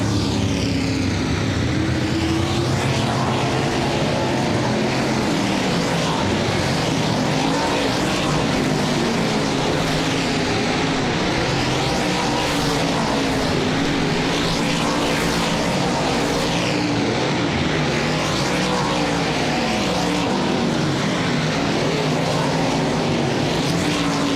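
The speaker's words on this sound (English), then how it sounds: "Late model hot lap session 2 is underway." Late model race cars on hot laps at Cedar Lake Speedway, a continuous loud roar of engines rising and falling as cars sweep past, with a dense wash of crowd and track noise around them.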